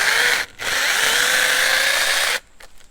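Sainlogic 21V battery mini chainsaw cutting through wood: a close, loud steady motor whine and chewing buzz, briefly dropping out once, then running on for nearly two seconds before stopping, with no talking.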